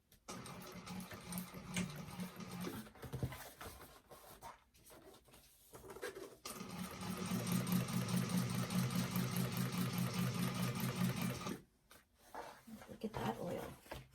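A freshly oiled sewing machine stitches a handbag in bursts: a short run, brief pauses, then a long steady whirring stretch of rapid stitching before it stops and starts again.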